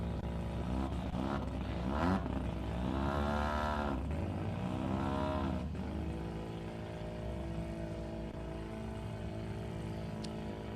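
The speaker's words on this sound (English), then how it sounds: "You can hear that rotary engine. Turbocharged 13B." A turbocharged 13B rotary engine in a little Mazda B1600 ute at a drag strip, a buzzy revving engine rising and falling through several blips before settling into a steady idle drone, fairly distant.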